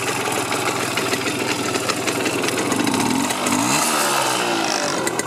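A Simson S51 Enduro two-stroke motorcycle engine runs close by, a loud buzzing, slightly uneven idle that rises briefly in pitch as the throttle is blipped, with no speech.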